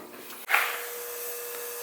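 A quick tack weld on a car's windshield post panel: a single brief, harsh buzzing burst against a quiet, steady background hum.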